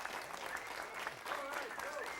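A television talk show studio audience applauds steadily, with dense clapping filling the whole moment and a few voices faintly audible underneath.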